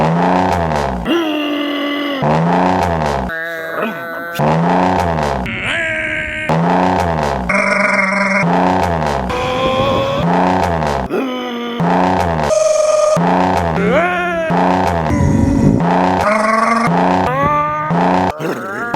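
A bone-stock automatic Pontiac G6 with a 3.5 GM engine revs hard again and again, each loud, close roar climbing and falling in pitch with brief pauses between bursts.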